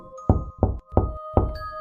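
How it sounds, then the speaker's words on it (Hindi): Four firm knocks on a door, evenly spaced and loud, each a deep thud with a brief resonant ring, heard alone as a sound effect. "लगभग 2 घंटे बाद अनुज को दरवाजा खटखटाने की आवाज सुनाई दी।"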